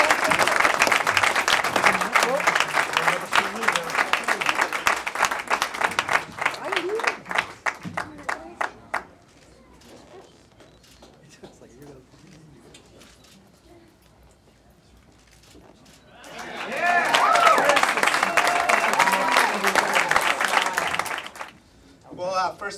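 An audience at a press conference for the Arizona Sundogs applauds a new signing: strong, sustained clapping that fades into a quiet stretch of scattered claps, then swells again into a second loud burst.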